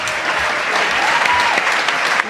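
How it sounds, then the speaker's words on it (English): A crowd applauds at a dinner celebration with dense, sustained clapping throughout, loud and close, while a few voices cheer faintly underneath. "Let's give him a big round of applause."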